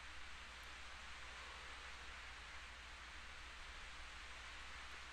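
Heavy rain in the video game Corpse Party falls as a steady, even hiss of downpour with no voices and no breaks.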